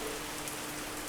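A heavy rain downpour in Puerto Plata, with a constant, close wash of falling water drumming on surfaces and no speech over the brief span.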